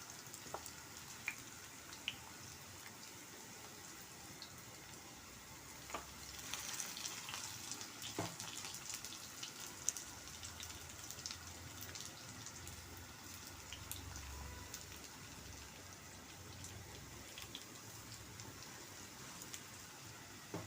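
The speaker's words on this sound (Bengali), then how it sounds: "এখন চুলার আঁচটা কমিয়ে লাল লাল করে ভেজে নেব।" Malabar spinach leaf fritters frying in a pan over a lowered flame, a faint, steady crackling hiss like light rain with scattered soft pops.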